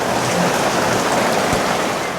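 Heavy rain pours steadily as a dense, loud, unbroken hiss of drops on surfaces outdoors at a farm, without speech.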